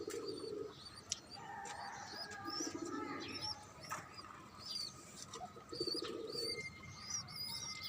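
Pigeons in a rooftop garden growing mulberry trees and vegetable seedlings give a few low, soft coos in short bursts, with small birds chirping brightly above them throughout.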